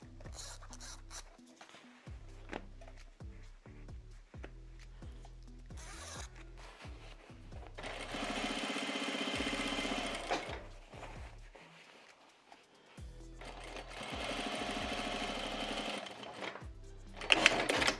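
A sewing machine topstitching close to the edge of fabric scraps for an Easter project, with clicks and short runs at first, then two long, steady, loud bursts of stitching separated by a pause.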